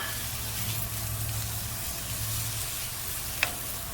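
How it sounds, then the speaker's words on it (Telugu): Thinly sliced onion fries in a pan, a steady close sizzle with a low hum underneath and one brief clink near the end. "వేగిన తర్వాత ఫస్ట్ ఉల్లిపాయ వేయించుకుంటున్నాను"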